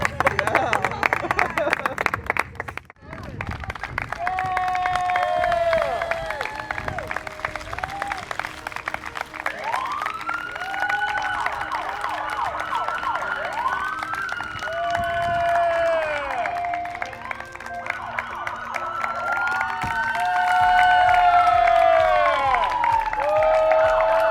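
A crowded audience at a McAllen ISD Teacher of the Year ceremony breaks into sustained, loud applause mixed with cheers and whoops, steady throughout with a brief dip early on.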